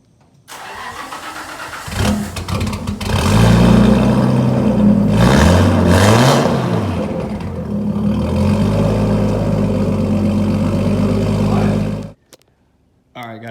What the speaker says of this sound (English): I'll do a cold start on the car because it ain't ran in about 2 weeks